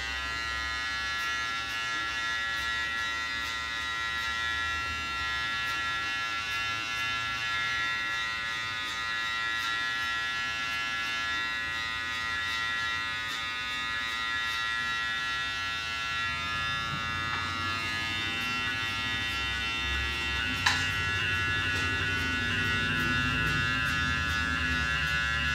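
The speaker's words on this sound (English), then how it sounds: "We're just doing a clipper cut." Electric hair clippers buzz continuously with a bright, tonal whine while a barber cuts a fade line, close and steady, with small changes in pitch as the blade moves through hair.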